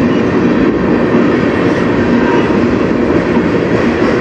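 A CN M492 manifest freight train led by locomotives CN 2944 and CN 2776 rumbles past on the Strathroy Sub, a loud, close, continuous rolling roar with steady wheel clatter.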